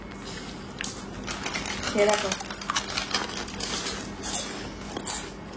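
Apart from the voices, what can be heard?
breaking crunchy nal papad snacks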